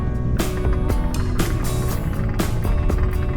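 A boat engine runs steadily while the vessel eases toward a haul-out slip, a low continuous rumble broken by several sharp knocks and clatters, with no talk.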